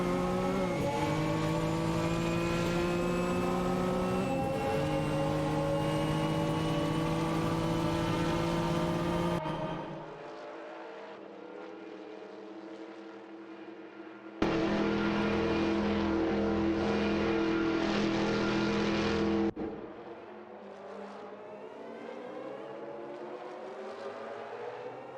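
Racing engines of a Mazda 787B and a Jaguar XJR-12 in a video game, a loud sustained high-revving whine shifting pitch with gear changes, cutting to a quieter engine drone, then returning loud, without voices.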